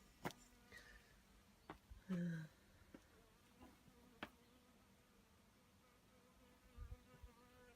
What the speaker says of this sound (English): Oh, there's a nice little bee buzzing around as well.